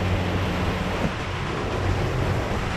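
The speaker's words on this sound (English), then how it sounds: "It's fucking raining again." Rain falls outside during work on a Lexus IS300 timing belt job, a steady broadband hiss with no voices, constant and close throughout the short stretch.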